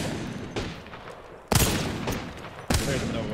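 Gunfire from Apex Legends: several sharp, loud shots, including two prominent blasts, the first followed by a ringing tail, over a quieter background.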